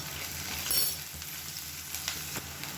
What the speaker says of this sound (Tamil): வெங்காயம் பூண்டு நல்லா வதங்கிடுச்சு